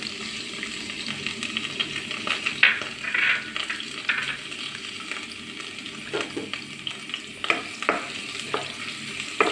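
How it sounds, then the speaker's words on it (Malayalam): Sliced garlic fries in a pan for a Malabar-style banana chilli fry, a gentle hiss of oil with intermittent stirring scrapes and occasional light clinks, close and unaccompanied by speech. "ഞാൻ വെളുത്തുള്ളി ഇതിനകത്തേക്ക് ഇട്ട് കൊടുക്കണം."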